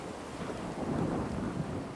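Steady rain with low rolling thunder in a Fallout 4 wasteland weather scene, a continuous dense wash of downpour with deep rumbles swelling near the middle, heard alone without speech.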